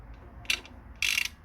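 The crankshaft of a 4G93 engine in a turbo Lancer build being turned by hand with a ratchet, giving two short, close metallic clicking bursts over a quiet background hum.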